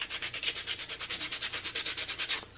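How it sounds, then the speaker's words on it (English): Sandpaper rubbed back and forth along the edges of a painted punchneedle finishing piece, a quick, steady run of about twenty close, raspy strokes heard up close with no talking. "Just kind of sand the edges a little bit."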